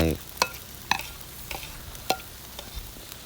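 Soft sizzling as bamboo shoots are added to a chicken coconut curry, with a few sharp clinks and taps of a utensil against a pan, close by, no talking.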